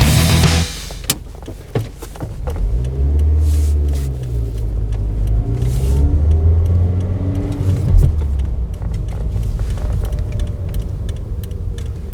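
A car drives along a road past two parked vehicles, with a steady low engine and road rumble heard from inside the cabin and light interior clicks.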